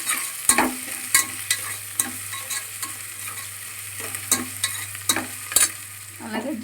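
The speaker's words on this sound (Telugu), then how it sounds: "అలాగే అల్లం వెల్లుల్లి పేస్ట్, ఇవి కూడా కొంచెం కలుపుకుందాం." Ginger garlic paste stirred into frying mutton biryani in a pot, with a steady sizzle under repeated scraping strokes of a spoon, several sharp clicks of metal against the pan, close and fairly loud.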